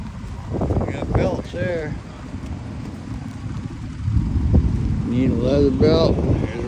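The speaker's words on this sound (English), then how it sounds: "We got some wind coming up now." Gusty wind buffets the microphone at an outdoor tractor show, a low rumble that builds stronger in the second half, with people talking over it.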